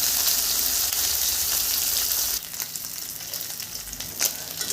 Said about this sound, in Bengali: দিয়ে দিব মাছগুলো। দিয়ে একটু ভেজে নিব।